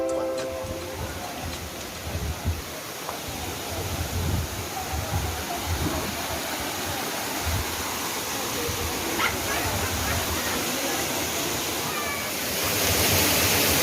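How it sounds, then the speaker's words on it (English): A hidden waterfall in Sanguinetti, Clarendon, Jamaica pours in a continuous broadband rush, steady and moderately near, with faint outdoor background sounds. "Now to go back to that waterfall."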